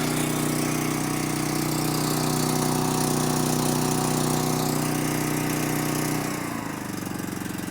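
A Predator 13,000W portable generator runs steadily in eco mode, its loud, even engine drone with a high whine holding throughout, then dipping and shifting in pitch near the end as the throttle changes.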